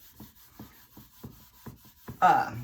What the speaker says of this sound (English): you just go back over it and kind of buff it out